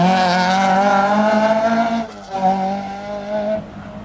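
An Opel Ascona rally car on a gravel stage of the 1991 Galway International Rally, its engine revving hard and loud with a gear change midway, close and passing, no voices.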